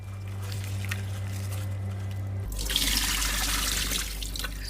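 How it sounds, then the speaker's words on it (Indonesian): Tap water runs steadily over betel leaves being washed under the faucet, a close splashing stream that gets louder and brighter partway through, with no voices. "kemudian cuci bersih menggunakan air mengalir"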